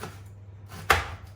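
A kitchen knife finely slices an onion on a board: faint light cuts lead up to one sharp, close chop, then the room goes quiet again.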